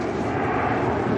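Avro Vulcan nuclear bomber on a flypast at one of its final displays, its jet engines giving a loud, steady broadband roar with a howling edge that fills the whole moment without a break.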